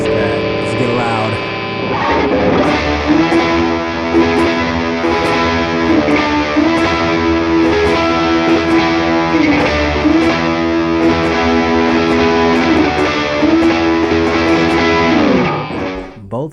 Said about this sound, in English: Both sides on distortion.